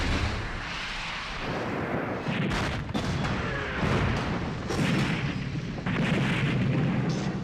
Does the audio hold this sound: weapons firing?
yes